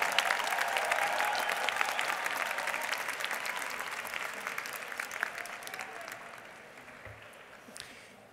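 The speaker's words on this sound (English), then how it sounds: "Let's give a round of applause to our Master of Planning graduates," Steady applause for Master of Planning graduates at a 2015 USC Price commencement ceremony, a large crowd clapping continuously and gradually thinning out toward the end.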